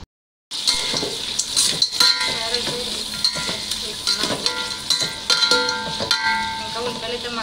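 Onions, green chillies, tomatoes and carrots frying in a pan for chicken curry, a steady loud sizzle with scattered clinks and scraping of stirring throughout.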